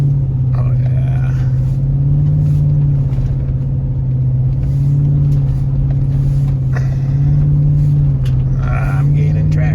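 A 2007 Chevy Suburban Z71 powers along in a drift, its engine a loud, steady low drone with slight swells in pitch, heard up close for the whole stretch with no clear tire squeal standing out.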